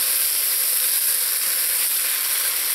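Seafood paella rice with a crust forming on the bottom is turned in the pan, filling the space with a loud, close, unbroken sizzle and hiss.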